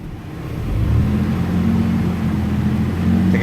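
A car engine is revved while parked to push it toward overheating, rising into a steady, droning hum that holds for a few seconds, close and moderately loud, with no talking.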